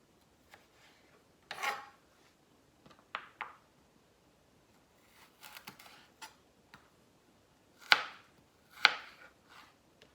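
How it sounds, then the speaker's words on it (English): A knife chopping carrot into matchsticks on a cutting board: quiet, irregular crisp strikes and short clusters of cuts separated by brief silences, close and alone. "So I'm gonna cut these into matchsticks."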